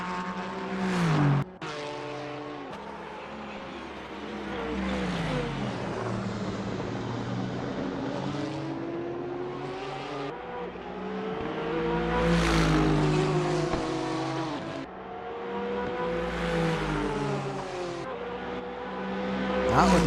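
IMSA race cars sweeping past at Road Atlanta, engines rising and falling in pitch through repeated loud passes, with brief dips between cars and a continuous roar across the track.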